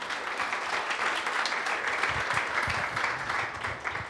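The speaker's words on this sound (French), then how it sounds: "Est-ce qu'on peut applaudir Pauline ?" An audience applauds a woman named Pauline at a talk about opening a cake design shop, giving sustained, moderately loud clapping that stays even throughout, with a faint voice murmuring underneath.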